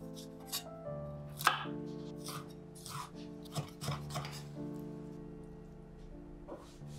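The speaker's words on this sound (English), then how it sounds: "Chop 200 grams of tomatoes finely." A knife finely chops tomatoes on a board with a series of irregular, crisp strikes, some louder than others, set against a quiet tonal background and no speech.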